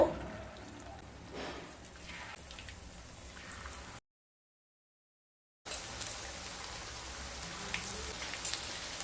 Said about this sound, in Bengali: তেলটা গরম হয়ে গেছে এবার পকোড়াগুলোকে ভেজে নেব